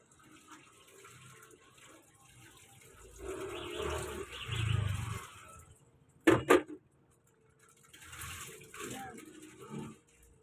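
Laundry is rinsed by hand in a basin of water, with quiet sloshing and swishing that swells midway, a brief sharp clatter, then more gentle splashing, all fairly faint and close.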